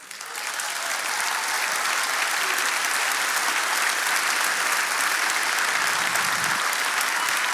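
Sustained, dense applause from the audience at a fireside chat with President Vicente Fox during RGV Startup Week, rising quickly and holding steady and loud for the whole stretch with no talking.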